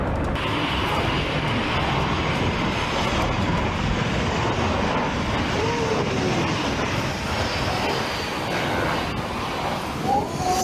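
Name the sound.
Wizz Air A321neo airliner making a very low landing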